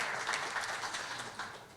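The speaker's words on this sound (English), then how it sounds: "hearty applause." Audience applause for the opening of a Black History Month program, a steady wash of clapping at moderate level throughout, with no talk over it.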